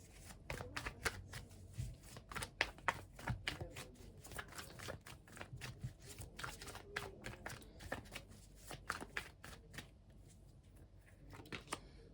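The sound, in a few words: tarot cards being drawn and handled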